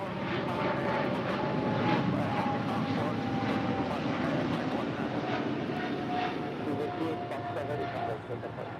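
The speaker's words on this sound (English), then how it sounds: "British Airways Flight 280 departing to London Heathrow on the 777-300ER" A British Airways Boeing 777-300ER bound for London Heathrow departs from LAX, its jet engines a steady, fairly distant roar with a broad rushing tone held across the whole stretch.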